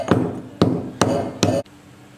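Roasted dry ginger and licorice root are pounded for kashayam in four close, heavy thuds at a steady pace, then the pounding stops.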